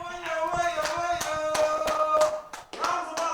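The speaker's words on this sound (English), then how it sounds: "Rounds of applause." Clapping hands during a rapper's live mic performance: a run of loud, fairly regular claps over sustained musical tones, close and bright, with a brief dip near the end.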